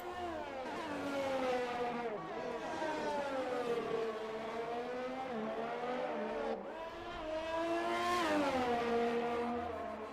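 Formula 1 cars in the F1 2020 video game lapping Circuit Zandvoort: a loud, sustained high-pitched engine whine that rises and falls through gear changes and corners, with a surge of revving near the end.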